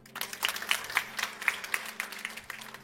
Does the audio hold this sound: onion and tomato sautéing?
no